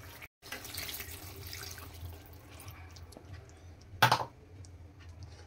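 Water is poured into chicken rassa with black masala cooking in a kadai, a short soft splashing gush followed by quiet kitchen ambience and one sharp clink of a utensil.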